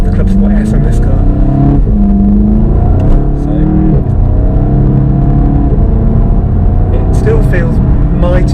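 A VW Golf GTI Edition 40 accelerates hard in manual paddle-shift mode, its engine note climbing through rising revs with audible shifts, heard from inside the cabin under loud steady road roar while someone talks.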